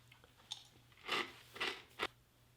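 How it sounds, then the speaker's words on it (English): Crunchy corn crackers from a US MRE cold weather meal are bitten and chewed close to the mic, three distinct crunching bursts spaced apart, fairly quiet over a faint steady hum. "even though these are crunchy,"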